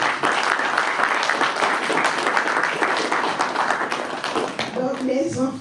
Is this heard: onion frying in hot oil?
no